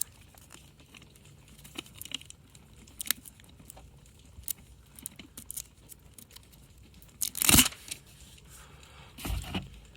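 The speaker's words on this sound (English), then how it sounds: "Take the plastic off." Plastic wrapping crinkles as it is pulled off a new oil filter during an oil change on an 80 Series Land Cruiser, with a quiet rustle building to two short, louder crackling bursts near the end.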